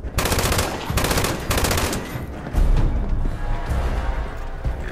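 Rapid bursts of automatic gunfire from the video game Fallout 76, loud and close, with a few sharp strings of shots followed by rumbling impacts and lower-level combat noise.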